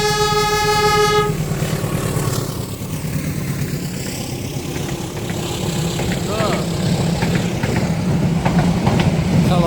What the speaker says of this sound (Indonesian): Selamat jalan dan selamat sampai tujuan kereta api Joglo Semarkerto tujuan